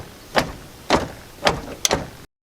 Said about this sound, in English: when I pick up on the door, you can see how much it slops